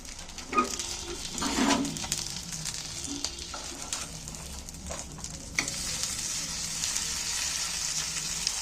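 Steady sizzling of egg and onion fritters frying in oil, with several clinks and scrapes as pieces are turned over in the pan.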